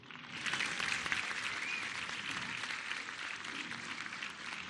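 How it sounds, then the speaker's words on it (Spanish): An audience applauds at a public education scholarship event in El Marqués, a broad wash of clapping that rises after a moment and holds steady at a moderate distance. "Recibimos con un fuerte aplauso a Carlos Torres, coordinador de los programas para el bienestar."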